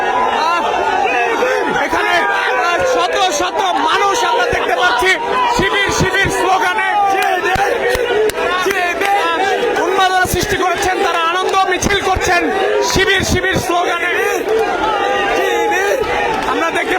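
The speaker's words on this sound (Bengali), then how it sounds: "হাতে হাততালি দিচ্ছেন এবং শিবির শিবির স্লোগান দিচ্ছেন" A large, loud outdoor crowd at Shahbag, Dhaka, celebrating around a student union election result by chanting 'Shibir' slogans over sharp, repeated clapping, with dense shouting and babble throughout.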